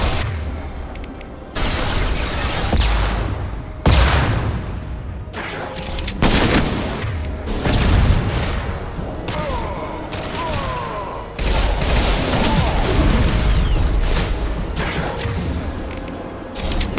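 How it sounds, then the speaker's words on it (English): Gunfire in the video game Mass Effect 2, loud booming shots and bursts that repeat through a long, chaotic firefight, with some faint game voices underneath. "Taking fire."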